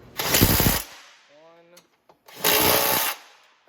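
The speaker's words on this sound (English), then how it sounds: "We'll have a 10 socket on the gun, and now we'll just go over and tighten all the bolts." Two loud, close bursts of a power drill gun with a 10 mm socket run down rear rack bolts on a Venom 125cc Grizzly ATV, separated by a short pause with a faint mechanical whir.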